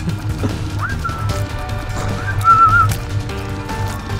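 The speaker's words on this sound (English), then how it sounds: "stop whistling" Whistled tones during play of the video game The Binding of Isaac, two short rising-then-level whistles over a busy game soundtrack with thumps and clatter.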